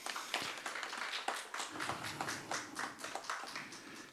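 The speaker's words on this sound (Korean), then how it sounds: "우리 한 대표님 다시 한번 박수 보내드리죠." Audience applause for a volunteer representative at a panel discussion on Jinju gyobang cuisine, a steady patter of many hands clapping in a hall, moderately loud and continuous throughout.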